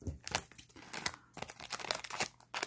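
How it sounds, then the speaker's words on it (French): Small scissors snipping a slit into a crinkly plastic Lego Disney minifigure packet, giving close, quiet bursts of crackling and rustling foil-like plastic in an irregular rhythm. "J'ai mes petits ciseaux pour faire une petite fente."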